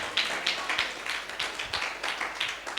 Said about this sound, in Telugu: ఒకసారి గట్టిగా చప్పట్లు కొట్టండి, కొట్టండి చప్పట్లు సార్